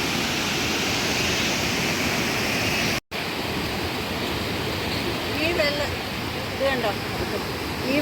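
A steady, roaring rush of falling water from a waterfall at Pazhayarikandam in Idukki, Kerala fills the whole clip, loud and constant, with faint birdsong near the end.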